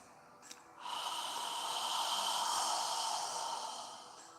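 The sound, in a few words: breathing out slowly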